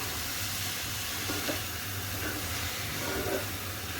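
Rice with sugar being stirred in a pot on the stove, a continuous soft sizzling hiss with faint scraping of the spoon, steady and close, no talking.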